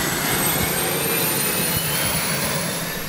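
A PC-12 turboprop engine runs at a steady roar, loud and close, with a high whining tone held above broad, even noise and no talk.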